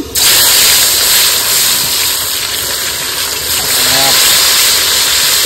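Chopped onion hits hot oil spiced with cinnamon and cardamom, setting off a loud, steady hissing sizzle that fills the whole stretch, with faint clinks of stirring underneath.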